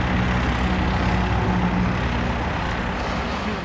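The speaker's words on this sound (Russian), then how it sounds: "Вот вижу, еще техника подходит." Heavy machinery and light tractors roll in on a street in Poltava, a steady, loud low engine rumble with continuous truck-like drone and no speech.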